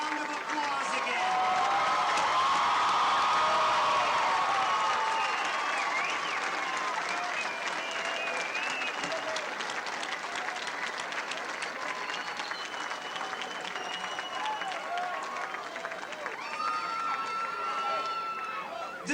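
Sustained applause and cheering from a large crowd for the Mishawaka High School class of 2006 at their commencement, loud at first then easing into steadier clapping with voices and whoops mixed in throughout.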